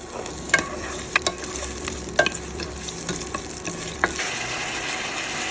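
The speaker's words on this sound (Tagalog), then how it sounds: "ang unahin natin ay ang sibuyas" Onion sautéing in oil in a pan for a chicken coconut stew, with a steady sizzle and occasional sharp clinks of a utensil stirring against the pan.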